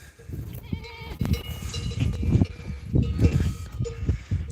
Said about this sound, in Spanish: Aquí las cabras están en su hábitat.